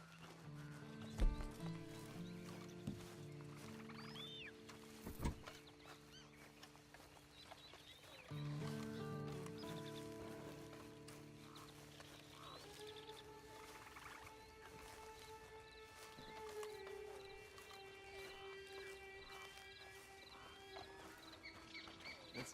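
Horse hooves clip-clopping in the video game Red Dead Online, a quiet irregular plodding under ambient game sound, with a horse whinnying and a few louder thumps along the way.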